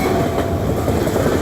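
Train rolling along a track in a Skyrim mod, a steady close rumble with a faint rhythmic clack, continuous and even throughout with no voices.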